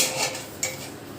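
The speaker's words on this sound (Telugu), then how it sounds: "ఇప్పుడు మనం స్టవ్ ఆన్ చేసుకుందాం ఓ ప్యాన్ పెట్టుకుందాం" A metal pan set down on a stovetop while making semiya upma, a single close clatter of metal on metal with a faint clink before it and no talking.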